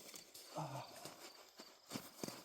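Horses moving about their pasture, with scattered hoof clops on the ground and a brief low whinny early on, fairly close but soft, with no talking.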